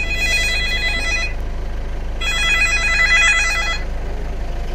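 A mobile phone rings from inside a pocket in two repeated bursts of electronic tones separated by a short pause, fairly loud over a low steady background hum, no speech.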